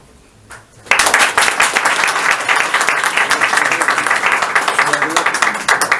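An awards ceremony crowd breaks into loud applause after a brief quieter moment with a voice, the dense clapping then continuing steadily and filling the room.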